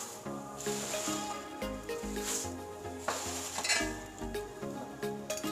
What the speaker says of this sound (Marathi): अशा पद्धतीने चिवडा कढईमध्ये घालून घेतल्यानंतर तो काय करायचा आहे, गॅसची फ्लेम मोठी ठेवून आणि भरभर अशा प्रकारे तो फिरवायचा आहे